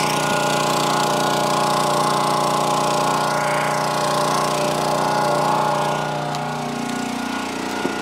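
A firewood log splitter runs steadily nearby with a loud, continuous engine drone and mechanical rumble, easing slightly toward the end as split firewood is handled.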